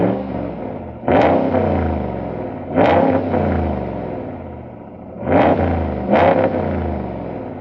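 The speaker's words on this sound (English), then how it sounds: "they want the sound and feeling of the V8" A RAM 1500 pickup's Hemi V8 engine with standard GT exhaust revs hard four times in separate bursts, each roar rising then settling back to a deep, rumbling idle, close and loud.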